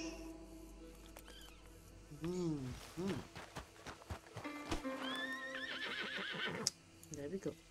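A Suffolk Punch horse in Red Dead Redemption 2 whinnies several times, loud and close, with clip-clop hoofbeats and game sounds around it.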